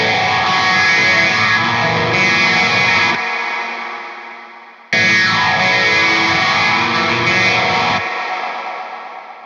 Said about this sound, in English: Let's try the cotton reverb.